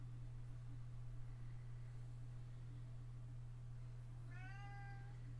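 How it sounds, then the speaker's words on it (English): A house cat lets out a single faint meow near the end, heard alone over a constant low electrical hum in an indoor room. "Kitty cat, shut the heck up. He's very noisy."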